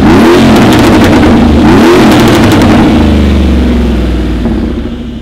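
A car engine in sports mode revs hard and loud up close with a rising and falling whine, then slowly settles as the roar eases toward the end.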